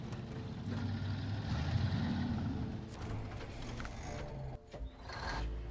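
A truck engine droning in a truck-driving video game while hauling a trailer, a steady low rumble with mechanical whine on top, shifting slightly partway through, no speech.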